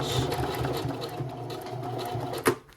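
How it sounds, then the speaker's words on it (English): A sewing machine stitches a slouchy tote bag with a steady, close mechanical whir, and a sharp clack near the end as the run stops. "And I'm gonna start stitching."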